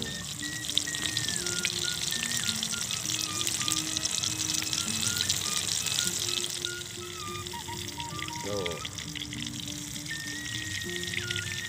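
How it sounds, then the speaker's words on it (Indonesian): Papaya pieces frying in hot oil, a steady broadband hiss and sizzle that runs the whole stretch at an even level, with faint background music tones layered underneath. "Kalau misalkan pepaya digoreng itu dia malah banyak airnya yang keluar nih."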